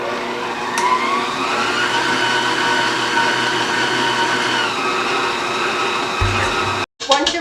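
An electric mixer beats cream cheese frosting with vanilla and melted, cooled butter for a carrot cake, giving a steady, close whirring drone that runs unbroken before cutting out briefly near the end.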